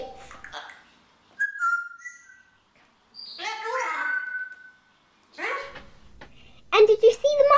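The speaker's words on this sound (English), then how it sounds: "Look, parrots!" Parrots in a pet store let out short whistles and chirps in bursts between children's voices talking nearby.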